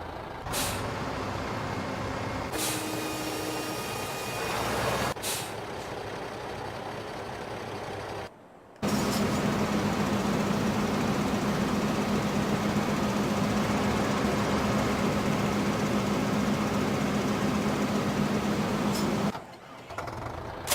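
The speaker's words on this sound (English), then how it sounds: "I don't know if this tractor will pull that big trailer." A tractor hauling a big trailer in Farming Simulator 2015 drones steadily with loud engine noise, interrupted by sharp air-brake hisses and a brief cut to near silence.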